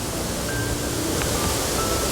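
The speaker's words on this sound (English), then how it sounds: "you've got water coming out of this pipe as well that's going down into the gorge" Water pours from a pipe and falls into Black Rock Gorge, a steady broadband rush of splashing water that fills the whole moment without pause.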